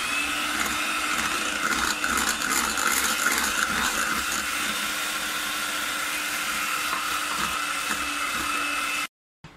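Electric hand mixer whirring steadily through chocolate cake batter as flour goes in gradually, a continuous close motor drone with a faint rattling texture, no talk, cutting off abruptly near the end.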